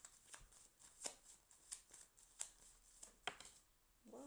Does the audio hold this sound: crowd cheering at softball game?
no